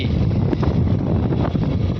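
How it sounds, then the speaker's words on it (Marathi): Cold gusty wind blowing steadily ahead of rain in an open rural area, a continuous low rumbling roar buffeting close and loud with no talking. "गार वारा सुटला म्हणजे पाऊस इथं कुठेतरी पडतोय"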